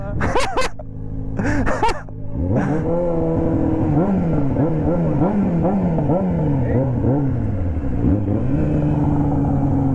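Motorcycles ridden by two boys nearby at night rev up and down in wavering, insistent engine tones, loud and close, after brief voices and exclamations at the start.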